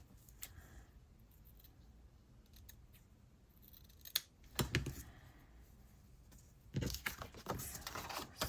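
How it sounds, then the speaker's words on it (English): Scissors snip a piece of lace at a paper-craft table. A few sharp, close cuts come in quick clusters among light rustling, with no voices. "I'm just going to cut off a piece."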